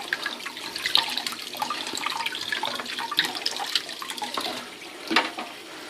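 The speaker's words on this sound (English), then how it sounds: "But you want to give this a good rinsing out." Tap water runs and splashes steadily while a Vision Clearomizer 2.0 vape tank is rinsed out under a faucet at a sink, a continuous hiss with a brief louder splash near the end, no voices.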